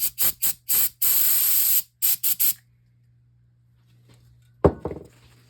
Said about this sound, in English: just some canned air here